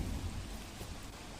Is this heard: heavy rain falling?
yes